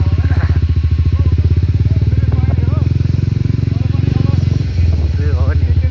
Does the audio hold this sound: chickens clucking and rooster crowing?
no